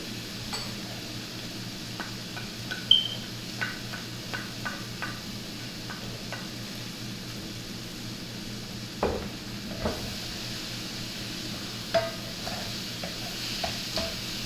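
Shrimp and garlic for sweet and spicy chilli shrimp sizzle softly in a pan while a spoon stirs them, with scattered scrapes and light clinks against the pan over a low, steady frying hiss.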